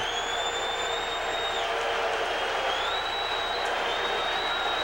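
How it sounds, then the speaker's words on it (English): A large stadium crowd cheers loudly and continuously at a 2001 CFL game between the Toronto Argonauts and the Saskatchewan Roughriders, just after a touchdown catch. A dense, sustained roar runs through with whistles rising above it. "This crowd is very loud."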